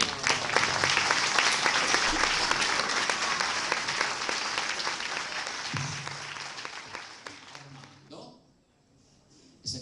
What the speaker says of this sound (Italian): Signore e signori, a voi Arverio Cao, un applauso